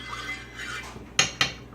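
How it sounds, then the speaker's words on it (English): A spoon stirs water in a frying pan while eggs are poached, a soft swirling wash followed by two sharp metallic clinks against the pan, close and without talk. "stir the water"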